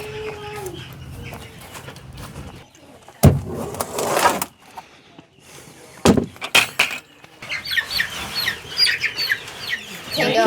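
Young pullet hens cluck and chatter in a pasture pen, with irregular calls throughout and a few sharp nearby bursts and thumps among the birds.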